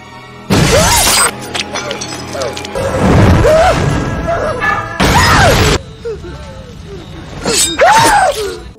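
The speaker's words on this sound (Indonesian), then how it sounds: "Tiba-tiba gelas yang dipakainya pun retak dan air menetes ke mesin komputer tanpa dia sadari." A drinking glass cracks and shatters in a film sound effect, with several sharp crashing bursts and breaking clatter spread across the scene, loud and close.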